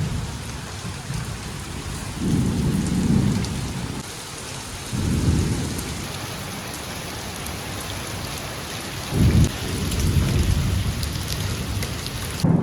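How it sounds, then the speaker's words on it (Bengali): Heavy rain pours steadily on surfaces outdoors beside a parked vehicle, with several deep rolls of thunder rumbling through it at intervals, loud and close, with no talking. "আর দেখো কী পরিমাণে বৃষ্টি হচ্ছে"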